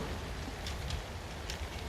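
Steady rain pours on an outdoor patio building site during porcelain paving work, a dense continuous hiss with occasional louder splashes, no voices.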